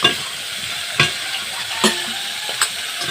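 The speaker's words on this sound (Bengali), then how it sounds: "এরপর আমি আলু দিয়ে দিচ্ছি আলুতে স্বাদ মতন লবণ দিয়ে দিলাম দিয়ে নেড়ে চেড়ে নিচ্ছি" Potatoes frying in oil with panch phoron and salt, stirred now and then, giving a steady close sizzle broken by a few sharp scrapes of the spatula against the pan.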